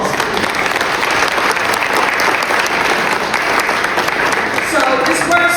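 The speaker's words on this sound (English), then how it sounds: "Give that a round of applause." Loud, steady applause from an audience at a city business and tax program event, many hands clapping densely and evenly throughout, with a voice starting to speak near the end.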